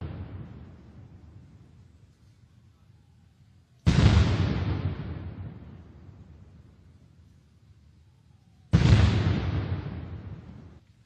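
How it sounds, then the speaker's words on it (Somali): Ceremonial cannon fire booms out in a salute for a visiting president, two heavy blasts several seconds apart, each with a long rolling echo that fades away. "kadibna waxaa loo riday madaafiic."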